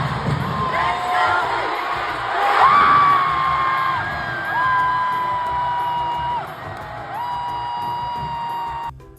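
Crowd at a SEA Games 2025 basketball game featuring Gilas Pilipinas, cheering, whooping and shouting continuously in a large arena, loud and dense, with a sustained high tone running through the roar.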